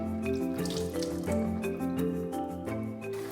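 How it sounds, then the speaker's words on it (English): Tap water runs over drained canned pinto beans, a continuous splashing flow with squishing and shifting under the stream, fairly close and moderately loud. "Drain and rinse the beans with some water, then set aside."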